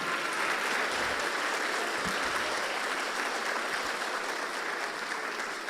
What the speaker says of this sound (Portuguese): Aplauda esse Jesus que é o dono da herança.